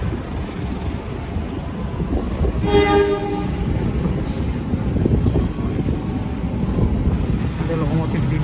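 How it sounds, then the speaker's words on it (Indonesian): A train passes through Jatinegara station, where a service locomotive stands nearby. Its rumble runs steadily throughout, with a brief loud horn blast about a third of the way in. "Ada lokomotif dinas bro di seberang sana tuh."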